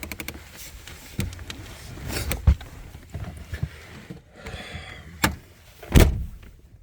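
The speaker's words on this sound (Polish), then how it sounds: "No klasyka, drzwi się nie domykają." A Land Rover Defender door fails to latch: several sharp, hard thumps and knocks at close range, scattered among quieter rattling and handling noises.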